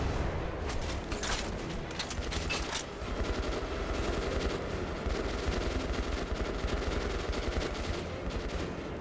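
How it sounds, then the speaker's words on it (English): Anti-material rifle fire in the shooter Metro: Last Light: dense, sustained rapid shots rattle on for the full stretch at steady loudness, heavy and close, with no voices. "I guess I'm just gonna shoot it a whole bunch."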